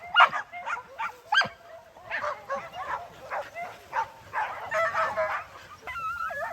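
Several dogs at a dog sanctuary bark and yip in quick, overlapping bursts near at hand, with a few whimpers mixed in and a louder flurry at the start.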